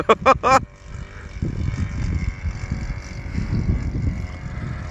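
Engine of a giant RC PZL-104 Wilga plane fitted with a Titan ZG 62cc petrol engine drones steadily outdoors with wind buffeting the microphone, following a short burst of speech at the start.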